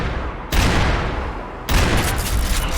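A barrage of gunfire in the video game Max Payne 3, dense and loud, with two sharp onsets starting sustained, crackling volleys that fill the whole stretch.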